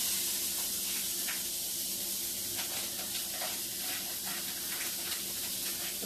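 Pork sausage from a one-pound roll sizzles on a preheated single-burner grill pan, a steady close hiss throughout with faint scraping, no talk.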